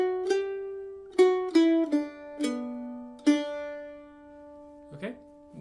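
A mandolin picks a slow phrase of a melody, six or so plucked notes with clear ringing sustain, played alone and fairly quietly at a gentle beginner pace.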